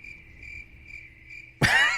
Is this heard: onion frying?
no